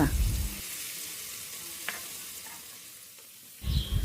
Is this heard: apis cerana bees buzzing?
no